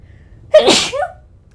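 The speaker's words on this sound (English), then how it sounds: "Sneeze came out of nowhere." One sudden, sharp sneeze, close and loud, over quiet background.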